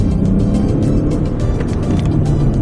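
A Range Rover Sport with a Stage 1 tune drones loud and steady on a dyno, its deep engine note holding a continuous low roar with no voices.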